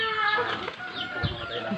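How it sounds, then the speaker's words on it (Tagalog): Pet chickens cluck in a pen, a few short, close clucks over background rustle and a faint voice. "Yung mga manok mo?"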